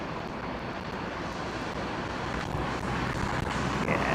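A jet arriving at London Heathrow on runway 27L makes a steady broad engine roar that builds slightly toward the end, heard from a distance outdoors with no talking.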